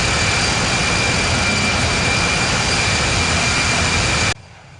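Simulated Airbus A380 jet engine roar at takeoff in the Infinite Flight game, a loud, steady, broadband rush with a faint tonal whine that cuts off abruptly near the end, with no voices.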